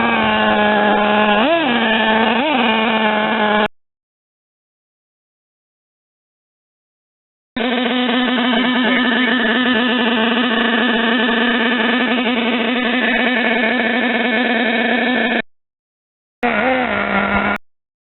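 Nitro engine of a Traxxas Savage RC truck, loud buzzing high-revving whine running steadily with a couple of rev blips, in three bursts separated by silent gaps.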